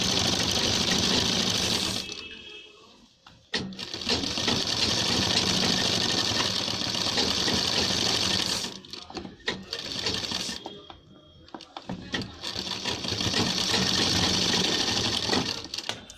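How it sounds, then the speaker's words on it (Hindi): Sewing machine stitching lab trim along a kurta collar, rapid rattling stitches in bursts of several seconds with brief pauses between, close and loud. "ये हम लब की सिलाई कॉलर के ऊपर लगाते हैं"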